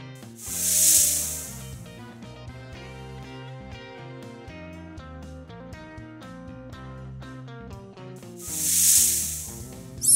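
Snake hissing in two broad noisy bursts near the start and end, heard over continuous children's background music.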